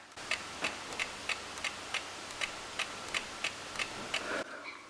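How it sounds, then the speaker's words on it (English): A rapid series of faint, crisp mechanical clicks from a Canon EOS 77D lens's diaphragm blades closing during depth-of-field preview repeats steadily about a dozen times, then stops abruptly. "that's the sound of the diaphragm blades inside the lens"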